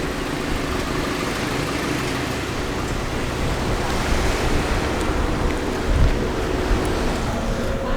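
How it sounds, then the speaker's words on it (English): Constant wind buffets and rumbles across the microphone on a high mountain road in Colorado, a steady broadband roar with occasional low gusts, no voices. "It's a little windy up here."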